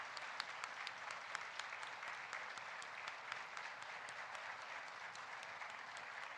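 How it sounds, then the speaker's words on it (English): Steady applause from a crowd, dense and continuous clapping throughout, moderately loud with no voices over it. "give a big round of applause to all your parents, friends, whoever is there"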